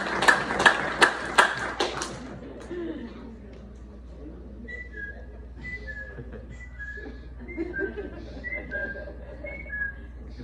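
A short burst of applause for Sebastián at a gathering honoring a late brother, a few sharp claps up front that quickly fade, followed by a quieter stretch with light whistle-like tones.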